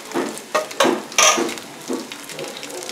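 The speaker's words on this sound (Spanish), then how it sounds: "Estamos terminando de freír ya nuestras croquetitas" Tuna croquettes fry in hot oil with a steady close sizzle, broken by several short clattering knocks and stirring sounds from the pan.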